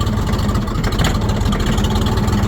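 A Kentavr walk-behind tractor's engine runs steadily at close range, a loud, even chugging idle with a fast regular pulse and no talk.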